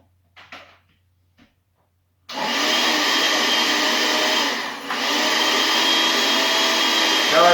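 A blender emulsifying cottage cheese with pizza crust dough mix starts up abruptly after a few quiet clicks, then whirs loudly and steadily with one brief dip in pitch.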